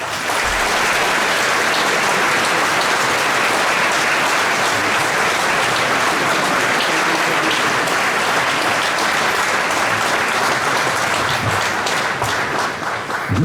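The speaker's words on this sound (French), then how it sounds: "je crois que tu mérites tous nos applaudissements" A crowd at a political rally in a domed hall in Pontoise gives loud, dense, continuous applause that fills the space evenly and holds at full strength for many seconds.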